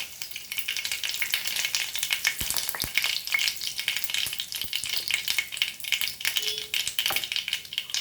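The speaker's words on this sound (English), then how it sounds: "As this starts sputtering, we'll add our curry leaves." Curry leaves sputtering and crackling in hot oil for Goan potato bhaji, a dense, steady sizzle with sharp pops and taps scattered throughout.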